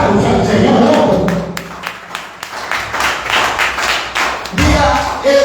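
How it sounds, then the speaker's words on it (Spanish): Church congregation applauding, a dense burst of clapping that swells and fades over several seconds amid loud room reverberation, with a voice heard at the start and end. "Un aplauso al Señor"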